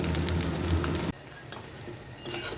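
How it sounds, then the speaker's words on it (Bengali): Loud, steady sizzling of chhena (fresh cheese) balls frying in hot oil, which drops to a quieter crackle partway through. "এবারে তেলে ভেজে নেব তেল গরম হয়ে গেছে"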